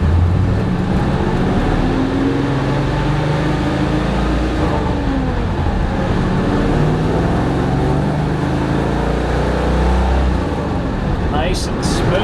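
A 1970 Chevelle SS 454 convertible with a Tremec TKX five-speed pulls away in first gear, its engine a loud, steady low rumble that builds across the whole stretch, heard from inside the car.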